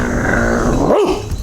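A dog gives a single short, low growl up close, rising and then falling briefly, with no talking.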